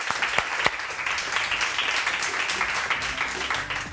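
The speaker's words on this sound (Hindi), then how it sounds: "तालियां।" Studio audience applause on a Pakistani morning talk show, a dense, even patter of clapping with a couple of crisp claps near the start, sustained for several seconds without talk.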